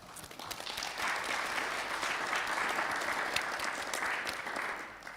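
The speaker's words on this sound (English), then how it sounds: "maybe a round of applause to all of us for having taken the time to be here." Sustained audience applause fills a business forum hall, a dense, even clapping from many hands that stays steady for several seconds without talk.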